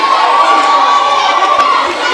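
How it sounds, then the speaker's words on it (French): A school audience at a class contest final claps and cheers loudly and steadily, with children's shouts rising throughout the crowd noise. "applaudissez maintenant."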